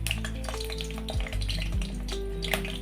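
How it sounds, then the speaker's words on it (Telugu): Brinjals dropped one at a time into hot oil sizzle and fry steadily, a dense close crackle with a few low clunks from the pan, no talking. "ఆయిల్ వేడైందండి. ఇలా వంకాయలను ఒక్కొక్కటి ఇందులో వేసుకొని"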